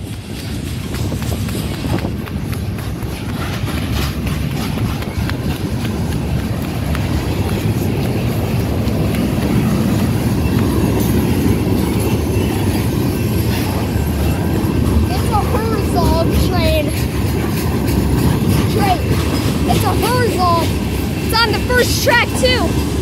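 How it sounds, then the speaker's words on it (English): A Herzog rail maintenance train rolls past close by with a steady heavy rumble and clatter that swells slightly over time, and a voice is heard speaking beneath it. "That's a really cool train."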